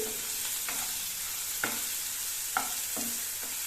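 Onions with curry leaves frying in a pan for a bitter gourd fry, a soft continuous sizzle with a few sharp spatula taps and scrapes, fairly quiet and without talk.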